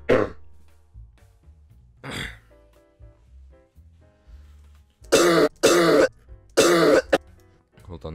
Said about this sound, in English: this first cough is actually kind of crazy though